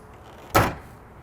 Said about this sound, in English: That is the sound of plastic.